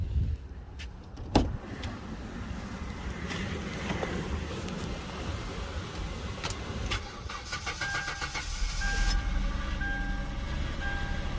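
A 2009 Hyundai Sonata Limited engine cranks and turns over, then settles into a steady idle that rises slightly in revving toward the end, heard up close outdoors.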